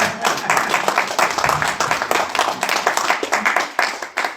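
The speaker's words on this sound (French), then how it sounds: "Est-ce que vous pouvez applaudir pour ça?" An audience at a French European election rally for candidate Mireille Saki bursts into loud, close applause. Dense rapid clapping continues throughout, with a few voices calling out beneath it.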